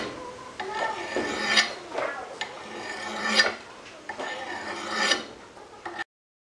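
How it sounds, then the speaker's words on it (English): A metal file scrapes along the blade of a brush axe in long, one-direction strokes, about four rasping passes, close and fairly loud with no talk. "Now I'm going to take my file and I'm going to get rid of some of the bad spots on this."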